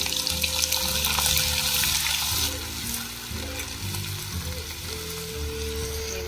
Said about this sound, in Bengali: প্রথমে দিচ্ছি রসুন বাটা